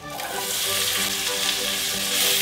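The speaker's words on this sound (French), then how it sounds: "Le beurre commence à faire du bruit. On va mettre le poivron, l'oignon et l'ail." Bell pepper, onion and garlic hit hot butter in a pan and fry with a loud, steady, close sizzle that holds evenly throughout, with no voices over it.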